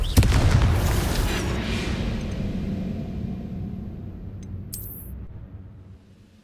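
Confringo spell blast in Hogwarts Legacy, a heavy booming explosion that hits at once and then rumbles and fades slowly over several seconds, with a brief bright whoosh near the end.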